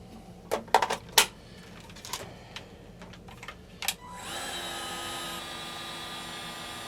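A few sharp handling clicks and knocks, then a heat gun switches on and blows with a steady, droning whir through to the end, shrinking tubing on new boat bilge pump wiring.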